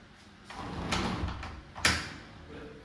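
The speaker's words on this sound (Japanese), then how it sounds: "扉を閉めようと思ったんですけど" A bathroom door in an apartment with a combined toilet and shower is pushed toward shut and fails to close, giving a few soft scraping bumps and one sharper knock, close by in a quiet room.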